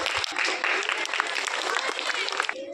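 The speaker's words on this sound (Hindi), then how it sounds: "एक जोरदार ताली" Applause for a young child receiving a medal at a village school sports event, a short burst of brisk clapping from a nearby group, with voices mixed in.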